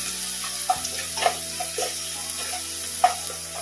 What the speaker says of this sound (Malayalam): നന്നായിട്ട് വഴറ്റാം.